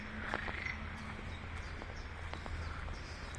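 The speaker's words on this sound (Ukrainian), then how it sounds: "Оце квакають." Frogs croak in a steady chorus in a park in Pawłowice, Wrocław, with short repeated calls over a constant background hum outdoors and no voices.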